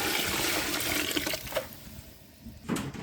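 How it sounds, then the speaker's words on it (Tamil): Water poured into a cooking pot for Dindigul chicken biryani after the meat has cooked, a continuous close splashing gush with small gurgling changes over a few seconds, no voices. "இப்போ தண்ணி ஊற்றிக்கணும்."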